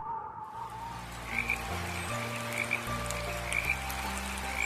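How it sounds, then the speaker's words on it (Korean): Tree frogs croak steadily in a dense chorus, the calls pulsing in a repeating rhythm, moderately loud against a background of layered tones and no talking. "그 뒤로 청개구리는 비가 오면 개굴개굴 더 크게 울어요."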